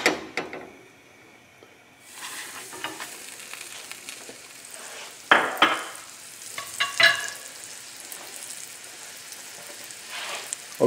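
A salmon fillet fries in a pan of half butter and half olive oil, with a soft sizzle under scattered scraping and clattering stir sounds that come in several sharp bursts, nearby and with no talk.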